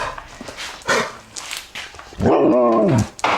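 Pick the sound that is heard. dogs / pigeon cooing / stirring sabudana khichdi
dogs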